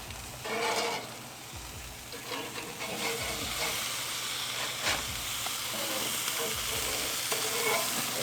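A burger patty sears and sizzles on a hot cooking surface, with steady hissing crackle and a few scraping, stirring clinks, close and continuous.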